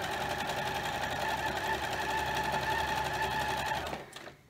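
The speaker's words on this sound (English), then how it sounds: "So I'm just gonna sew a scant 1/4 inch seam allowance." A sewing machine stitching a scant quarter-inch seam on quilt fabric, a fast steady close mechanical whirr running for about four seconds before stopping abruptly.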